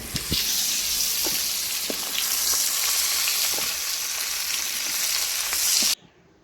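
Fish lightly frying in a pan for a shrimp malai curry, a steady bright sizzle with occasional soft pops and clinks that stops abruptly near the end.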